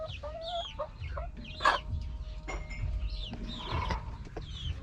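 Several chickens cluck and chirp close by in short, irregular bursts, with a louder squawk partway through.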